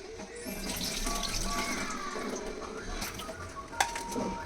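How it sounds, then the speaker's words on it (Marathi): Water splashes and trickles steadily as it drains from freshly washed fish, with a faint clink partway through, and no one speaking. "तर तिला जरा पाणी तिचं काढून टाकते"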